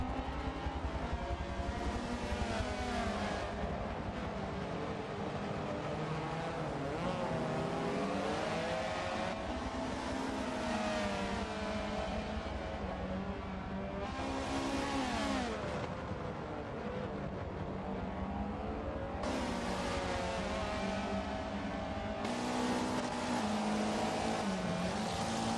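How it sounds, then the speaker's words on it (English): Touring cars racing at the Catalunya circuit, engines roaring continuously with repeated revs and gear changes as cars accelerate and brake, loud and sustained throughout with no talk. "Garside's going to beat him under brakes potentially"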